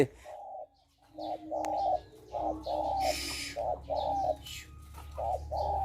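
A captive spotted dove, a droop-winged decoy bird, gives a run of short repeated coos in close, evenly spaced bursts, fairly near and clear over a low background hum.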